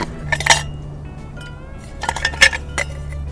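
Ice cubes dropped into a mason jar for cold brew coffee at a camp setup give a few bright, sharp clinks in two small bursts, close by, over a steady low hum, with no talking.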